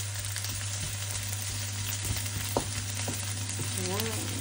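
Onions, garlic and pork sizzle in a frying pan for pork caldereta: a steady close hiss with scattered clicks and scrapes of stirring, no talking.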